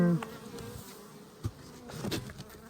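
Honeybees buzz faintly and steadily around an opened hive in late fall, a soft continuous hum with a few closer passes.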